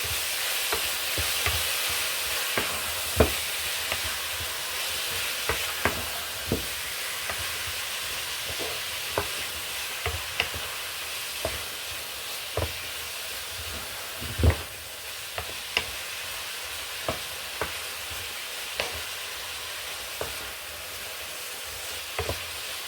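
A spoon stirs a basil mixture in a frying pan with a steady sizzle, punctuated by light scraping clicks and taps at irregular intervals, close and moderately quiet, with no voices.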